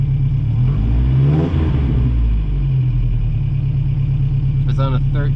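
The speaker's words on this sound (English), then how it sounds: "when I give it some throttle" A Toyota car engine idles with a deep steady rumble, then rises briefly in pitch as the throttle is applied and settles back, loud and close, with someone talking over it.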